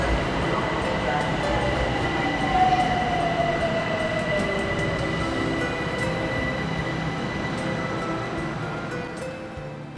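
Interior of a Tehran metro train riding along, a steady loud rumble of wheels and motors with a brief rising squeal partway through, continuous for the whole stretch.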